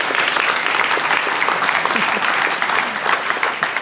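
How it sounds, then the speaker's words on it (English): A dense, steady round of applause from an audience at a guide dog graduation ceremony, continuous clapping that holds at an even level from start to finish with no break. "So let's give them one more round of applause."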